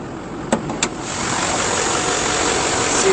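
A truck engine idles steadily and smoothly after a couple of brief clicks, a continuous broadband rumble close by.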